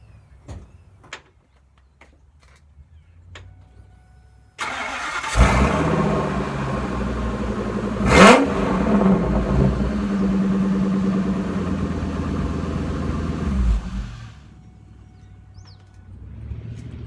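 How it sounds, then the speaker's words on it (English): A 2000 Ford F250 with a 6.8 V10, running straight pipe, cranks and catches after a few quiet clicks, then settles into a loud, raw, rumbling idle with one brief rev before shutting off. "I'm gonna do a straight pipe start real quick."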